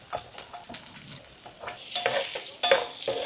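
Onions being stirred into potatoes, long chilies and vegetables sautéing in a pan for corned beef mechado, a steady sizzle and fry broken by brief scraping stirs, close and fairly quiet with no talking.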